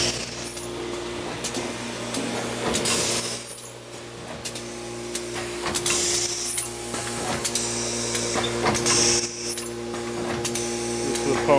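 A packaging machine runs plastic film through a series of rollers, giving a steady mechanical hum with clicks and rattles in a noisy factory setting while a person talks nearby.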